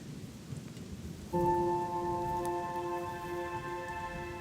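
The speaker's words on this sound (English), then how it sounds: "And as if by clockwork, it's raining." Steady rain patters down over harvested wheat fields in China; partway through, a sustained humming tone starts and holds over it.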